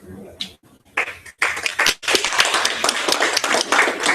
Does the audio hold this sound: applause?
yes